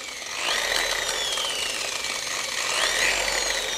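A car paint polishing machine runs with its pad on the surface, a steady, close, loud whirring drone that swells slightly twice over a few seconds, with no voices.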